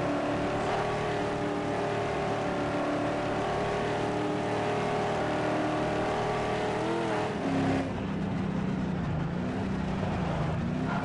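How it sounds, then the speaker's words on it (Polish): A racing car engine in the video game Ford Street Racing roars steadily at high revs, its pitch shifting and dropping briefly near the end as it changes gear. "No, dźwięk silnika. Piękny, piękny."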